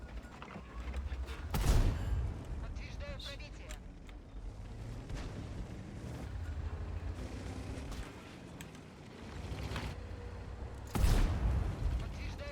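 Heavy tank cannon shots in World of Tanks, with a loud booming blast near the start and another near the end over a steady rumble of battle noise and scattered softer impacts, as a player talks throughout.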